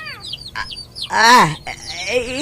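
Chickens cluck loudly and close by, a series of rising and falling calls with one louder squawk in the middle.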